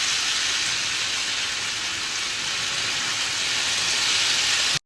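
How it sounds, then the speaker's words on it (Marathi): Moong dal dosa batter sizzles on a hot oiled griddle, a loud, even, continuous hiss that holds steady close to the pan before cutting off abruptly at the end, with no talking. "तर आपलं इथे मूग डाळीचं बॅटर ते मी आता टाकते तव्यावरती"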